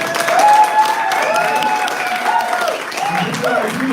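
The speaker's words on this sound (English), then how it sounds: "put your hands together for this amazing man" Audience applause at an evening event in a restaurant, steady clapping and crowd noise filling the room, with a few voices and cheers mixed into the sustained ovation.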